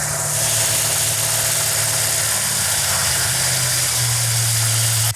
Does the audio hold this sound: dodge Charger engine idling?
yes